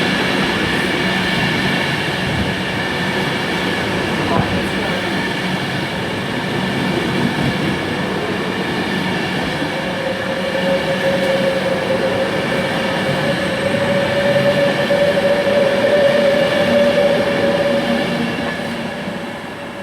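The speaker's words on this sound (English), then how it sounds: "this Pendolino here is unit 390-157" Pendolino unit 390-157 passes through Milton Keynes Central station in a loud, sustained rumble of wheels and motors, with a steady whine and a thin squeal rising midway before the sound eases off at the end.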